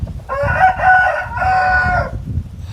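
A rooster crows once at a Thai village home, a loud, close, drawn-out harmonic call lasting about two seconds over a low background rumble and faint clucking.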